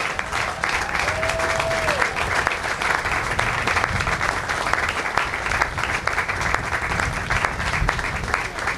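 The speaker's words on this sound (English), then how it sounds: "could all veterans please stand and accept the applause from our July 4th" An outdoor July 4th patriotic program audience applauds veterans from all conflicts, a dense, steady wash of clapping from many hands that lasts the whole stretch without a break.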